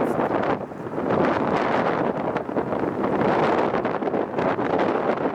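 Strong wind at LAX airport buffets and roars against the microphone in continuous gusts, with no voices.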